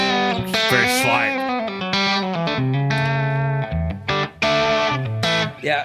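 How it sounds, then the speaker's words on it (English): Electric guitar played through an amp with overdrive and a light tape and spring reverb, loud distorted notes and chords ringing out in short phrases, with no talking over it. "that drive sounds so crazy fantastic"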